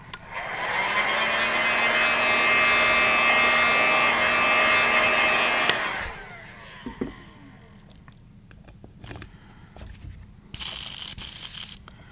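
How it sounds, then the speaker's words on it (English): A heat gun blows steadily and loudly for about six seconds to heat-set freshly airbrushed paint on a golden shiner fishing lure, then cuts off, leaving faint handling clicks and brief light noise. "I'm going to heat set this just real quick."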